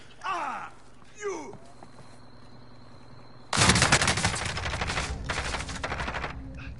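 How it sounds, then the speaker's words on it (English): Video game gunfire suddenly breaks out after a quieter stretch of whooshing effects and low ambience, a loud, rapid stream of automatic shots that goes on without pause to the end. "We're taking fire."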